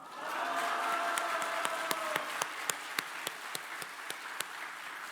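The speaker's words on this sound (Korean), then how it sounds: "여러분은 가장 기쁜 목소리로, 환호하는 목소리로 와 소리지고 영광의 박수를 우리 주께 올렸으면 좋겠습니다" A church congregation breaks into applause and cheering, with a broad wash of clapping that swells and then settles into a few rhythmic, louder claps. The sound is moderately distant and carries no speech.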